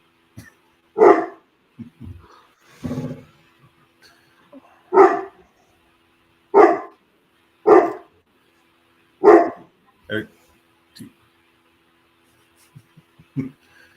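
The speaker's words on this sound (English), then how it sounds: "Apparently, the dogs are having a conversation." Dogs bark back and forth indoors, with about eight spaced single barks, some louder and some softer, separated by quiet gaps.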